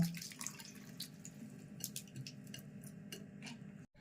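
Water drips and splashes while mashed green peas are washed by hand in a bowl, a soft wet squishing under a steady background hum that cuts out abruptly near the end.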